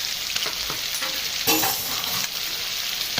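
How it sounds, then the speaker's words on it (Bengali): Onions sizzle in a pan as ginger-garlic paste is stirred in, making a steady close hiss with a louder scraping stir midway. "এটা ভালো করে মিক্স করব।"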